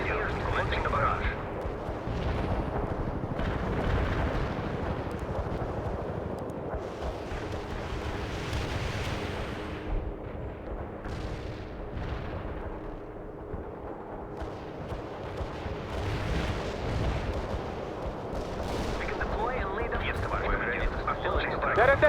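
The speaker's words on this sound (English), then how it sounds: "Launching the barrage." Artillery barrage in World in Conflict, a sustained roar of heavy shell blasts and rumbling impacts rolling on continuously over the battlefield, with radio voices talking over the din.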